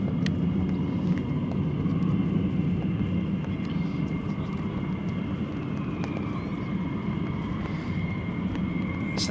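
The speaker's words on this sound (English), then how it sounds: "That's those two F-35s, isn't it?" F-35 fighter jets at RAF Lakenheath produce a continuous distant roar and rumble, steady and broad without clear peaks, with faint clicks over the top and no talk.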